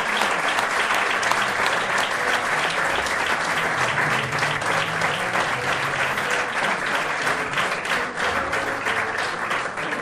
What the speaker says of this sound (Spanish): pediría un forte aplauso para todos os membros dos 25 anos de Queixumes dos Pinos e as súas familias